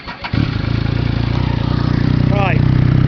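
A Triumph Sprint ST 1050 motorcycle with a Trident exhaust cranks briefly, catches, and settles into a loud, steady, throbbing idle close by, with a faint voice underneath.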